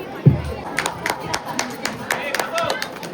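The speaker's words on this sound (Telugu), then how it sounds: "గట్టిగా చప్పట్లు." Audience at a Sankranti celebration in Riyadh clapping in scattered, uneven bursts, moderately close, with crowd chatter and a voice running underneath.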